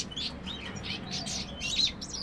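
Dewormed goldfinches give a rapid series of soft, high chirps and twitters, fairly faint and close, over a low background hum with no talk.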